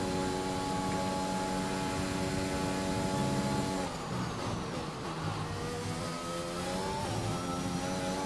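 F1 car in the F1 2021 video game on a qualifying flying lap, its high-pitched engine droning steadily, dipping briefly as if for a gear change or braking, then climbing again, with no talk.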